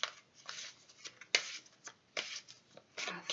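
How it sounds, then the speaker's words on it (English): Tarot cards are shuffled by hand in a quiet room, giving several soft, riffling bursts of papery flutter separated by short pauses, close to the microphone and alone without talk. "Let's see if we can finish up shuffling."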